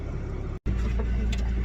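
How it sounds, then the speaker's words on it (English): The engine of a JCB machine runs steadily close by as it is driven, a loud mid-low drone broken by one brief dropout before carrying on. "I'm driving one of them JCB things."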